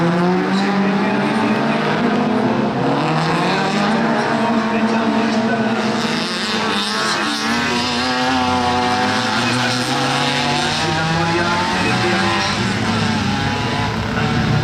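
At an autocross track in Arteixo, a rally car engine roars loudly past with a rising and falling pitch, while a race announcer talks continuously over it.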